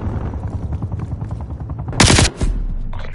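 A sentry turret in Call of Duty: Cold War firing a loud, harsh rapid burst lasting about a quarter second, over a busy rumbling game background with a brief second crack just after.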